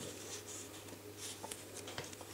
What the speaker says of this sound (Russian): Лист у нее даже, слышите, вот я его трогаю, он шуршит.